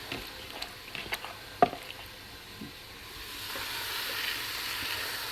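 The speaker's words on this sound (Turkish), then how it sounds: "Bu tavukları bu şekilde bir buhar tencereme kızdım." Soft steady sizzling of chicken frying over low heat in a pressure cooker pot, with a few scattered pops and clicks, the hiss swelling gradually toward the end.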